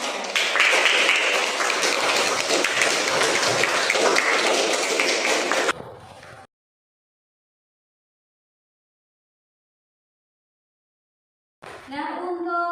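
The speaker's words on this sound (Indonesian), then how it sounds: "Beri tepuk tangan untuk kelompok 3" Students in a classroom clap for a group after its presentation, a burst of brisk mixed clapping lasting about six seconds before cutting to silence, then a voice resumes.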